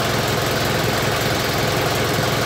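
An Isuzu Panther Hi Sporty 2.5 diesel engine idles steadily, its throttle cable not yet connected, giving a continuous low, even rumble with a faint knocking pulse, close and alone without any talk.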